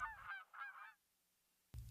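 Geese honking in marshland, two quick loud honks close by, then a pause before another call begins.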